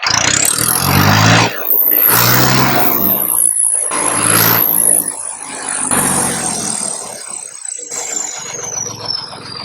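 A turbocharged Farmtrac 60 tractor engine revs hard in repeated loud surges, a rising turbo whine sweeping above the roar, heard up close and alone.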